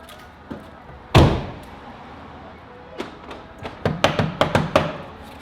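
Central locking on a repainted, previously wrecked VW Polo door: one heavy thunk, then a run of sharp, close mechanical clicks from the lock actuators as the door locks and unlocks repeatedly.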